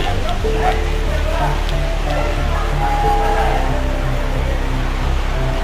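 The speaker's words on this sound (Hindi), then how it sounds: "बारिश है कि रुकने का नाम नहीं ले रही है, बारिश बढ़ती जा रही है" Heavy rain pours down steadily at a hillside temple site near Pratapgarh, Rajasthan, a constant loud wash of noise with a low rumble underneath, while faint voices and tones come and go.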